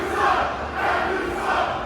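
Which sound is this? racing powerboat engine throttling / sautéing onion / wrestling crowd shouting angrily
wrestling crowd shouting angrily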